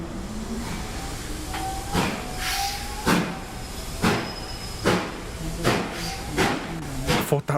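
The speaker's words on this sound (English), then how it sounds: "I'm thinking, hang on, this is making a very weird noise as it starts to move" A train pulls away from a station in Star Trek: Resurgence, with a strange rising whine, recurring loud clunks roughly once a second, and a steady hiss underneath.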